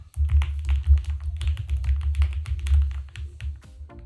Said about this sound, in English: Typing on the keyboard is really satisfying, and here's a sample sound test.